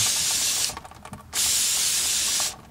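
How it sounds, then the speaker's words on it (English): Two long, loud hissing bursts of aerosol brake cleaner sprayed onto brake parts, separated by a short pause with faint clicking, close to the listener. "grab our brake cleaner, and spray it down"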